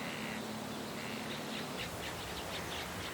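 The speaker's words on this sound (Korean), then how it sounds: "부지런한 새들이 새벽을 열면" Birds call faintly across a quiet lake at dawn, a few soft repeated chirps rising over a steady hiss of ambient noise.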